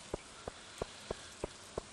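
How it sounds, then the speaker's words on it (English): Rain in the Stardew Valley video game, heard as six evenly spaced soft droplet plinks at a steady rhythm over a faint, quiet background, with no talk. "It's raining."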